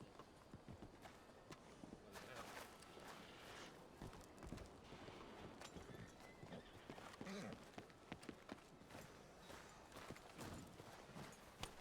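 Horse hooves clip-clop steadily at moderate distance in a video game, with a brief whinny amid a busy, continuous background of game sounds.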